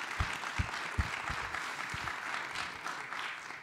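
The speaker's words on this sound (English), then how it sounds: "Vice President Taylor, let's give her a round of applause." An audience at a Liberty University event applauds Liberian Vice President Jewel Howard-Taylor, dense crowd clapping with a few sharp, close claps standing out early, holding steady for several seconds.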